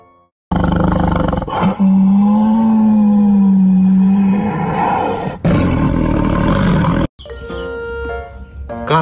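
A toy leopard plays a loud recorded roar effect, a long growling bellow followed by further roaring, close by and filling the sound, with a brief electronic jingle at the end.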